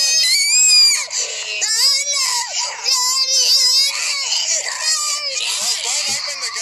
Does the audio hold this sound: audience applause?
no